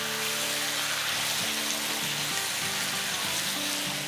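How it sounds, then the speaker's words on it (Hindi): Chicken frying in a karahi gives a loud, continuous dense sizzle throughout, with a faint melodic tone running underneath. "बस हमें जब तक फ्राई करना है इसको,"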